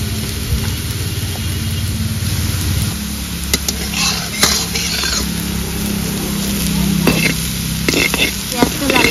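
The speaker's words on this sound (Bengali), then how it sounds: "পেঁয়াজটা লাল লাল করে ভেজে নিয়েছি।" Onions frying in a pan while a chicken curry is prepared, a steady close sizzle with occasional stirring and scraping clicks, continuous with no talk.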